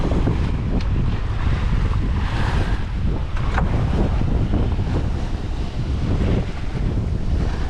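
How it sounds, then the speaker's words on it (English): Strong wind buffets the microphone aboard a sailboat on open water near the edge of Skull Creek, a loud, continuous roar with the wash of water and waves beneath and no speech. "The wind feels good against my skin."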